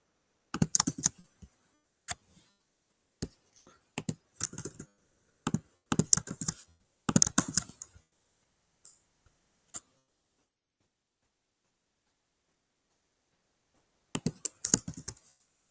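Bursts of typing on a computer keyboard during an online workshop, close and fairly quiet, with irregular clusters of key clicks separated by pauses and a longer silence before a final flurry; no talk.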